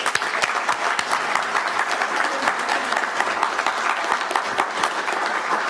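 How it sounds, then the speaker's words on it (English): An audience applauds Cherokee Nation Principal Chief Bill John Baker at a Goingsnake Massacre history presentation, a sustained, even roar of many clapping hands with sharp individual claps standing out, and no talk over it. "let's give a warm applause for Principal Chief Cherokee Nation"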